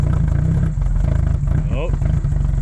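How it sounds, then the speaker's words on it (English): A small engine on a workshop job, fitted with a weak battery, runs steadily up close with a dense low, pulsing drone throughout; brief voices come through over it. "Give it a rev up."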